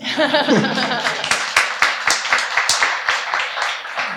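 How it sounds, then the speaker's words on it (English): Scattered clapping from an audience at a cleantech policy summit, sharp individual claps ringing out at an uneven rhythm, mixed with a brief voice and light laughter near the start. "that kind of stuff, we can clap for that."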